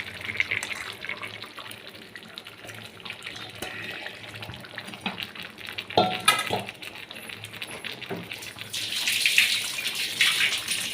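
Marinated chicken hits a pan of cooked-down spice masala in a home kitchen and sizzles with a steady, close, watery hiss, broken by a few brief clinks and louder bursts of sputtering.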